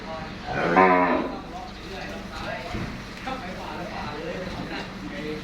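Cattle in a pen of fattened cows for sale on a Thai farm give a low moo near the start, with shuffling hooves and animal movement and someone speaking throughout.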